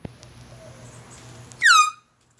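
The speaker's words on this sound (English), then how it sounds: "Do they like that air horn or what?" An air horn gives a single short, loud blast with a falling pitch, heard nearby over a low vehicle hum and followed by quiet.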